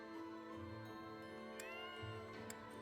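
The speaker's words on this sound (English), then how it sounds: "Oh, kitty." A cat meows several times, faint and somewhat distant behind a low steady background hum, with no talking over it.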